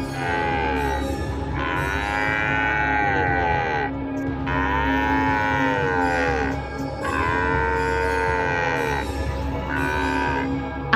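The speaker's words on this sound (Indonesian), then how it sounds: "aku terlahir kembali sebagai seekor sapi yang dimiliki oleh seorang pedagang sapi" A cow moos loudly and close by, giving several long, drawn-out calls in a row with brief pauses between them and no talking.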